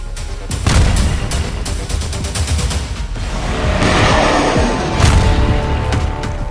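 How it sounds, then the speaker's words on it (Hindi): Explosions from Israeli air strikes in Syria, heavy rumbling booms and crackling blasts rolling loud and continuous, with bursts layered over a dense roar. "सीरिया में इजराइल सीरियाई विद्रोही फोर्स को एयर स्ट्राइक से धुआं धुआं कर रहा है।"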